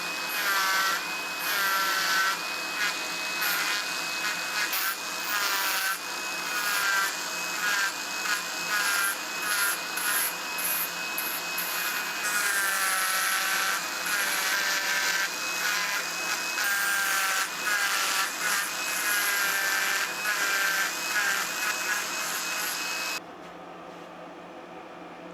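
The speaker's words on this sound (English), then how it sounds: "and then I'll shape that in with the Dremel" A Dremel rotary tool shapes fins on a wooden glidebait lure with a high, close whine that rises and dips as it bites into the wood. It runs almost continuously for about twenty seconds before cutting off.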